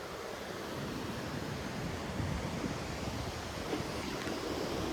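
Surf rolling onto Kondura beach near Vengurla on the Konkan coast, a steady close wash of breaking waves mixed with gusty wind buffeting the microphone, with no voices.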